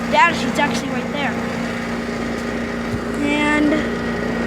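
A 1988 Comfortmaker air conditioner with a Copeland compressor runs outdoors, giving a steady, vibrating mechanical hum. Brief bits of speech rise over it at the start and again near the end.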